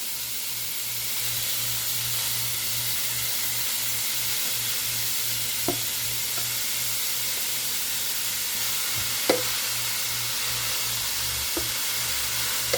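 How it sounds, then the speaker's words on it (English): A Power XL StirMax multi cooker stirs chili with ground beef, giving a steady sizzle and hiss with a low hum and a few faint scrapes as the paddle turns. "Let it start cooking and it'll continue rotating."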